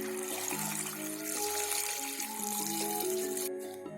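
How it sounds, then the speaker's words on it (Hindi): Water is poured into a cooking pot of beef trotter curry with tomatoes and salt, a steady splashing flow running beneath melodic background music. "इसके साथ ही हम इसमें पानी ऐड करेंगे।"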